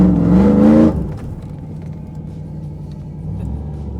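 Chevy 5.3 single cab pickup truck driving, a loud revving burst for about a second that drops to a steady, low engine rumble and road drone, rising slightly near the end, close and with no voices.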